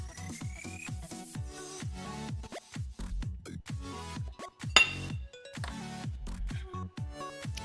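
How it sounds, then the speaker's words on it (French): Brownie batter made with black beans and vanilla extract is stirred in a bowl, producing rhythmic close scraping with light clinks of a utensil against the side, and no one speaks. "Je remélange."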